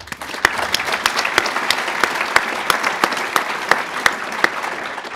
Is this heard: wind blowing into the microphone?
no